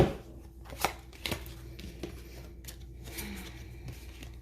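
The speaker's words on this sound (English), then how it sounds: "One more shuffle." Tarot cards riffled and shuffled, with a few sharp flicking bursts and soft papery rustling, fairly quiet and close, no talking.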